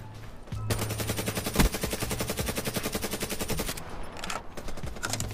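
A DLC weapon firing in a video game: loud, fast automatic bursts, a continuous machine-gun-like stream of shots with one heavier thump, tapering off near the end.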